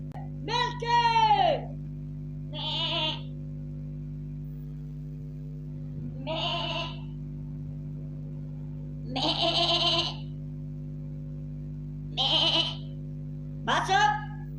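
A person imitates a goat's bleat with repeated wavering, nasal calls, six or so bursts spaced a couple of seconds apart over a constant low electrical hum.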